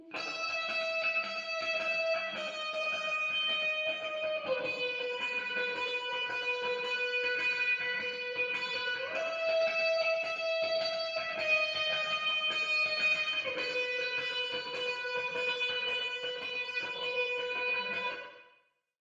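An electric guitar part with effects, panned in circles around the listener, plays sustained chiming notes with shifting harmonies, steady and alone for about eighteen seconds before stopping.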